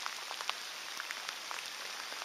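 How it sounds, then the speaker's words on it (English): Steady rain falling on a lake, a dense hiss scattered with brief droplet taps, continuous and moderately quiet throughout. "It's kind of a wet, rainy day."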